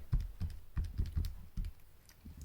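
Numbers typed on a keyboard, about eight close, distinct key taps at an uneven quick pace, soft and alone.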